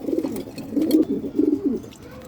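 A chocolate-coloured breeding pair of large racing pigeons coos in low, throaty rolling phrases, close by and clear, repeating several times without pause.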